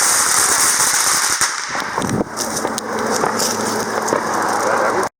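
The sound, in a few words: fireworks explosion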